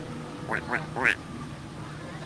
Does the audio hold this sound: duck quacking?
yes